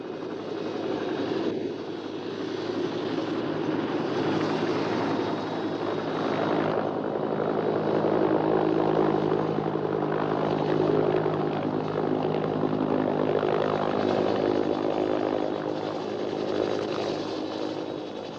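Steady, loud helicopter engine drone with rotor-like thrumming, continuous throughout and close by, with no voices, at a border patrol base during the 1963-1966 Indonesia-Malaysia confrontation.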